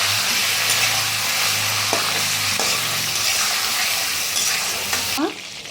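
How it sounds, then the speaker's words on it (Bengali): Chicken meat fries in a pan seasoned with salt and turmeric, giving a steady loud sizzle with occasional stirring scrapes throughout, then a brief shift near the end. "আমি মুরগির মাংসটাকে ভালো করে ভেজে দিচ্ছি।"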